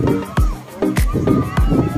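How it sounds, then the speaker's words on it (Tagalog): Shouting and loud voices of people at a beach resort in the evening, with repeated sharp yells and excited calls close by over a busy, noisy background of chatter. "Sigawan pa sila"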